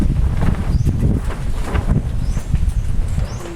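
Strong wind buffets loudly and continuously, with gusty rumbling throughout and no voices.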